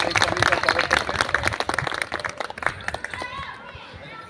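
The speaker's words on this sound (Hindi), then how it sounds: "तालियों के साथ एक सभी का स्वागत करते हैं।" A crowd at a gathering claps in welcome, a burst of dense, lively applause mixed with voices that thins out and fades after a couple of seconds.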